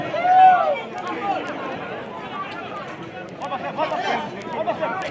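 Crowd chatter fills a football stadium during a 2023 MSL group match, with a steady babble of many distant voices and scattered calls. It stays moderately loud throughout and swells briefly at the start.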